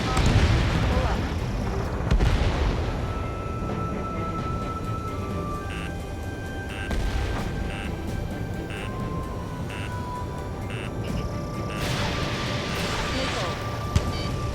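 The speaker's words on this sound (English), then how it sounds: "Here comes the anti-air missile" Missiles launching and anti-air fire in the Ace Combat 7 flight combat game: heavy booming blasts and rumbling explosions over a constant roar, with a voice talking throughout.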